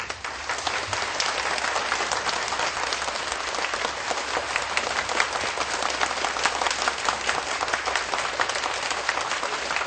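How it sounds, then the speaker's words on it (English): Audience applauding a former Philippine president and distinguished guests, a steady, dense wash of clapping from a sizable crowd that continues evenly for about ten seconds without speech. "Let us please give a big round of applause to thank His Excellency and all the distinguished guests."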